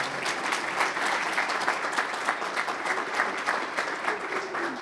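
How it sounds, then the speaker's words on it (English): At a university community breakfast, an audience claps steadily for about five seconds, a dense, even round of applause from a roomful of people. "Stand up, we'll applaud"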